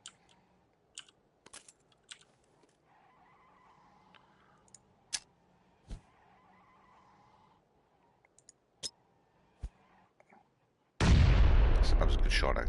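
A grenade goes off in PUBG on PS4 with a loud, sudden burst at the end, after soft keyboard and mouse clicks and a few isolated shots.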